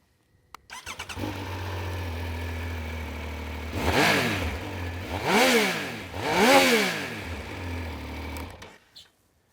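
A Triumph Speed Triple 1200 RS motorcycle with a 1160cc inline three-cylinder engine and exhaust can starts up and idles with a loud, steady rumble. Three sharp throttle blips rev it up and let it fall back before it shuts off.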